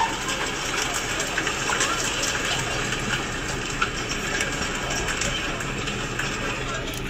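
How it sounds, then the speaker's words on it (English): Hail falling outside a house during a stormy spring day, heard as a dense, steady patter and hiss that continues without a break, with a low rumble underneath and no one talking. "It just started hailing outside for no reason."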